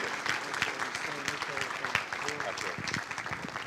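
Audience applause for a command sergeant major at a military community event, steady clapping from a crowd with some voices mixed in throughout.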